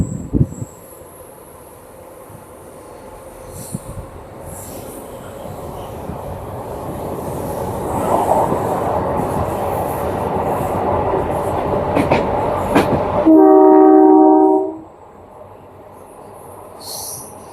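A train on the Thiruvananthapuram–Nagercoil line near Parassala rumbles closer, building to a loud roar, then sounds a long, clear horn blast before fading back to faint background noise.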